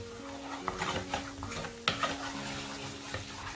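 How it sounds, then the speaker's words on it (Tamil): A spoon stirs homemade pizza sauce with parsley flakes in a pan, giving soft scraping and clinking sounds with a faint sizzle underneath, quiet and close. "நல்லா mix பண்ணுங்க"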